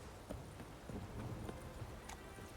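A horse galloping in the video game The Witcher 3, its hoofbeats thudding in a quick, uneven rhythm of soft, muted impacts over low game ambience.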